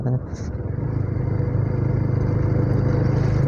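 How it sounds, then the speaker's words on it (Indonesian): Road noise during a motorcycle ride on the Banjarmasin–Marabahan highway: a loud, steady engine and wind rumble fills the whole stretch, rising slightly as a car passes nearby, with no clear talk. "Ada mobil, kita pelan-pelan saja."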